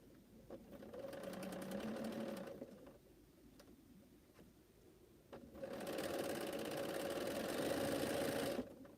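Domestic sewing machine running in two steady bursts while stitching a straight seam on a quilt fan block, a close, even mechanical whir with a short quieter pause between runs.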